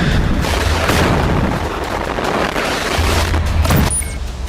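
Explosions from Israeli tanks being destroyed in Gaza, with loud, close booms and rumbling blasts in irregular succession, followed by a sharp crack and a dying roar near the end.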